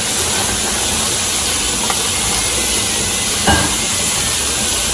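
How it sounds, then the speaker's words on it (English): Cucuzza squash sautéing in olive oil with basil and tomatoes, a steady loud hiss of sizzling close up, with a couple of faint clinks over it. "And here's the Cucuzza. Thank you. And we're just going to saute it."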